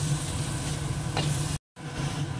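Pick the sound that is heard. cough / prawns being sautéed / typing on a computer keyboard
prawns being sautéed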